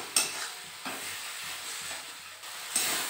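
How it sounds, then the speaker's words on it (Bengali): Masala with fried prawns and salt frying in a pan, a steady sizzle broken by a few sharp scraping stirs of the spoon, close and alone without talk. "আর দেব হচ্ছে লবণ, দিয়ে ভালো মতো কষিয়ে নেব মশলাটাকে।"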